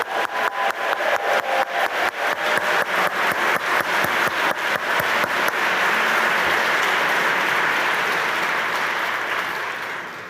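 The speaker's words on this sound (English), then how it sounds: "Let's give them one more round of applause," An audience at a book prize ceremony breaks into applause, starting with distinct rhythmic clapping that swells into a dense, sustained ovation before fading near the end.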